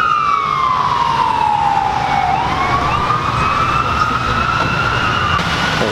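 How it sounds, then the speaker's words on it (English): An ambulance siren sweeps past on a freeway, a loud continuous wailing tone that slides down in pitch and then climbs again, heard over steady traffic and engine rumble with no talking. "people don't give a fuck about the ambulance"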